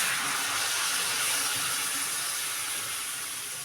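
Water poured into a pan of bitter gourd with potato, lentil bori and mustard paste sets off a close, steady sizzling hiss that slowly softens as it settles, with no voices.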